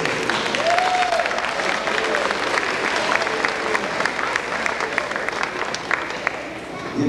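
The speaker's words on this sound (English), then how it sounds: "Give yourselves a round of applause." Children and their families applaud after a school presentation, a loud, sustained wash of clapping from a crowd that holds steady the whole time, with a few voices mixed in.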